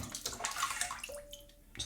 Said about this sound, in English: just dipping it in the bowl of water